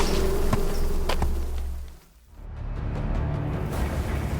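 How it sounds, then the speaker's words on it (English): Coffin flies buzzing around nearby, a dense droning hum with a few sharper passes, dipping briefly before the swarm noise returns. "A cloud of coffin flies come along with me, buzzing happily."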